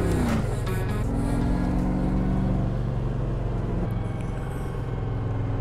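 A race car runs a lap around the old Nashville fairgrounds track, its engine a loud, steady roar heard close up from inside the car for several seconds.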